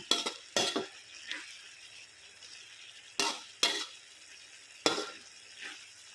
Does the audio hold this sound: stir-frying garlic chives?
yes